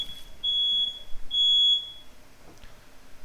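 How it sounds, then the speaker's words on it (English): A smoke alarm sounds in a room during a card game draft session: two loud, shrill electronic beeps, each about half a second long, with quiet gaps between them and nothing else around. "With the smoke alarm blaring in the background, we struggle on."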